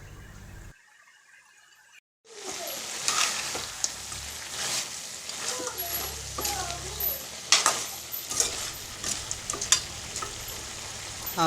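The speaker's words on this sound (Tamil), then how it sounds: "நல்லா ஃப்ரை பண்ணிவிட்டு ஓரளவுக்கு நல்லா மிங்கிளாகிற அளவுக்கு நல்லா ஃப்ரை பண்ணிக்கிறோம்." Country chicken curry fries in a pan with a steady crackling sizzle and scraping stirs, starting after a brief quiet gap near the beginning and continuing with sharp pops and spatula scrapes; a voice talks faintly underneath.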